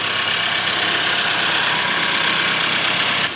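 Close up under the hood of a Mercedes, the engine idles with a steady dense whir and a faint ticking rattle from the injectors, loud and constant, with no voices.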